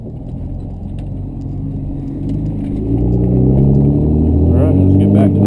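A twin-turbo Cummins diesel truck engine rumbles and builds in revs during a drive, its deep drone rising and growing louder, with a voice heard briefly.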